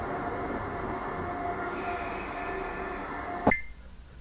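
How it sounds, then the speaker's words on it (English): A Stratford train passes close by with a steady rumbling roar and rail hiss, ending in a sharp squealing clank as the sound drops away. "this one's actually the Stratford train, but they sound the same."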